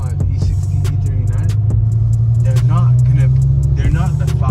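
Straight-piped BMW E60 M5 with a V10 engine droning loudly and steadily nearby, a deep continuous rumble, while people talk over it.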